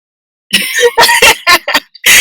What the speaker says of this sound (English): I have to like cough a little bit.